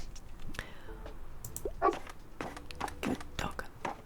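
A small dog in the Tiny Bookshop video game gives short yips and whimpering barks, scattered and close, mixed in among soft game sounds and a voice talking.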